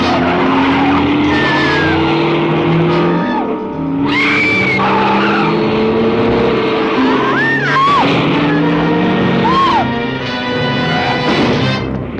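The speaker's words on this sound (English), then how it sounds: "She hit that car." A car skids with loud squealing tires and roaring engine noise, sustained and close throughout, as it collides with another car, with screeching sweeps and impact clatter mixed into the dense din.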